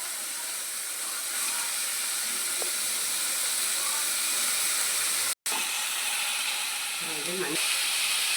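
Broad beans sautéed in a pan with curry leaves, onion and tomato: a loud, steady close-up sizzle runs throughout, with a brief break and a few faint utensil clatters near the end.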